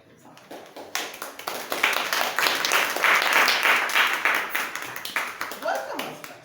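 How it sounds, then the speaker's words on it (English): Audience clapping at a Toastmasters meeting in Lake Chapala, a steady swell of many hands applauding for several seconds that rises, holds and then tapers, with a voice briefly audible near the end. "I want you to join me in giving a large applause."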